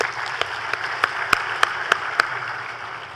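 Audience applause at a central bank event, a soft steady wash of clapping with a few sharp, louder individual claps standing out at regular intervals.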